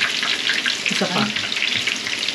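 Shrimp fritters (okoy) fry in hot oil, giving a loud, steady, close sizzle that fills the whole stretch with a few brief stirring clatters and no talk.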